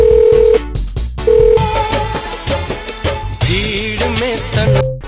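A telephone rings in repeated electronic bursts, the tone pausing briefly between rings while music plays underneath.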